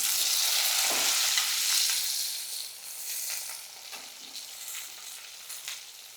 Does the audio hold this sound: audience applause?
no